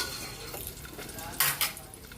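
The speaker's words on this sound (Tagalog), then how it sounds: "Magigisa na po tayo para sa ating pork caldereta butter." Pork caldereta base sautéing in butter in a pan, a steady close sizzle broken by scraping and clattering stirring strokes, with two sharp metallic clanks near the end and no voices.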